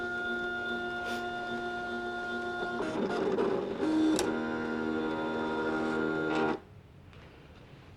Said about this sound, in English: press cut. And this time it will cut out the word as a whole